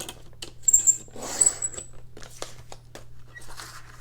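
A paper cutter slicing through a file folder, a few brief crisp cuts and scraping strokes up close over a low steady hum, with no voices.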